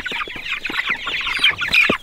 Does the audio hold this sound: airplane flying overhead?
no